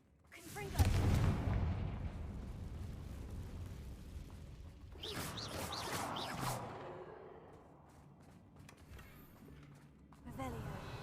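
A Confringo fire spell in a Hogwarts video game blasts with a loud, booming burst, followed by a second crackling whoosh midway and a fainter flare near the end, under a low ambient bed.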